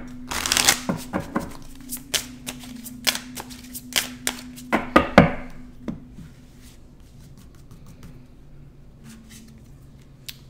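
Tarot cards shuffled by hand, close up, in a quick series of crisp riffling bursts and snaps over the first six seconds before it falls to near quiet, with a faint low hum underneath.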